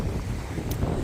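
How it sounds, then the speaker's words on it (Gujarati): Strong wind sweeps across a dam embankment, buffeting the microphone with a continuous low roar and rumble throughout, close and loud, with no speech. "પવન એવો આવે એની વાત જ ન થાય."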